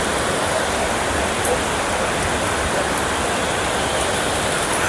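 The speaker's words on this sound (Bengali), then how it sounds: "অনেক জোরে বৃষ্টি আসছে, আকাশে তো দেখা যাচ্ছে না।" Heavy rain pouring down, a dense, loud, unbroken roar of water that fills the whole stretch without any speech.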